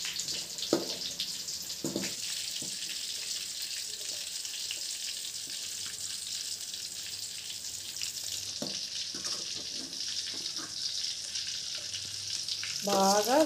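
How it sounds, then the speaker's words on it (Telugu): Constant fine sizzle of chicken keema balls deep frying in oil, close and even throughout, with a few light clinks of a utensil against the pan. "బాగా గోల్డెన్ బ్రౌన్ కలర్ వచ్చేంత వరకు ఫ్రై చేసుకోవాలి"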